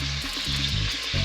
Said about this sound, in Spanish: Freímos con mucho cuidadito, insisto, en que no se nos quemen las ñoras.